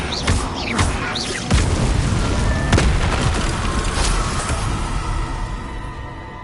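A loud, booming Confringo fire-spell explosion in the game Hogwarts Legacy, a heavy blast with crackling debris, followed by several sharp pops and a rumbling tail fading over a few seconds.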